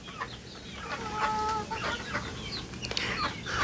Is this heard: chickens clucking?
yes